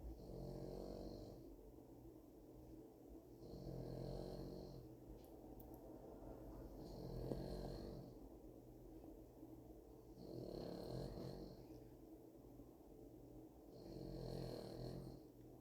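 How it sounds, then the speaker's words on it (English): A dog snores softly indoors, with slow rhythmic breaths rising and falling about every three seconds, steady and faint with no talk over it. "My dog is snoring."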